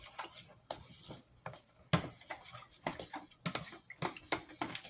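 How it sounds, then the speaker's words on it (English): A spoon stirs beef and noodles around a pan, producing irregular quiet clinks and scrapes against the metal, repeated taps scattered over several seconds without any voices. "And I'm going to re-stir this again"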